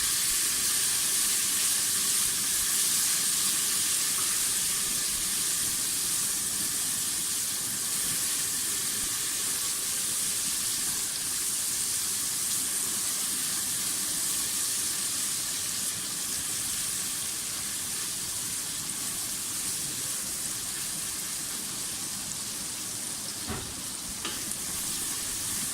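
Green chili paste with garlic and ginger paste frying in a pan for a mutton and bottle gourd dish, a steady, close sizzle and hiss that runs unbroken and evenly throughout, with a faint clink near the end.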